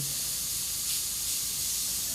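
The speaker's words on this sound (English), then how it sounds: "So I wet the surface with a layer and then I spray just air." An airbrush blows steady air alone across a painted miniature surface, a soft continuous hiss close by with no breaks for the full stretch.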